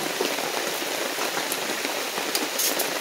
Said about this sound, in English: it's raining pretty bad